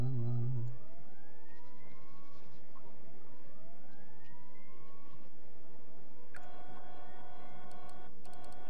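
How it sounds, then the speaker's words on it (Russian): Ship sirens wail from a night convoy in Silent Hunter 5, several rising tones repeating, moderately faint, under ongoing game sounds, with a louder cluster of horns near the end. "У всех там сирены прям вообще."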